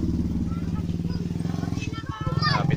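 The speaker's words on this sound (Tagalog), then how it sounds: "Ang motor." A motorcycle runs close by on a village road, its steady low engine drone with a rhythmic pulse, a shift in tone near the end as it passes, while people talk over it.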